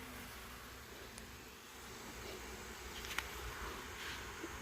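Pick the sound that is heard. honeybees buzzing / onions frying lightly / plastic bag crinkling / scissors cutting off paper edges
honeybees buzzing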